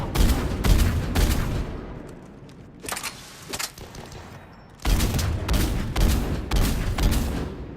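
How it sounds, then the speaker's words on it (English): Gunfire erupts in the video game Mass Effect 3 during an assault on Omega: loud bursts of rapid shots in several clustered volleys with brief lulls between, strongest at the start and end, with no talk over it. "The intruders! Open fire!"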